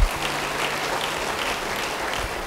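A church congregation applauds during a sermon, an even wash of many hands clapping at moderate level, steady throughout, with a low hum beneath and no talking.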